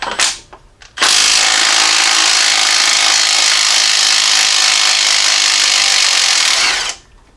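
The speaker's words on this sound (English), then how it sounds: "This is a 3/4 inch bolt right here, so I'm going to get my impact on that" An impact wrench runs loud and continuous for about six seconds on the 3/4 inch harmonic balancer bolt of a Jeep Cherokee XJ 4.0L engine, after a couple of brief short bursts.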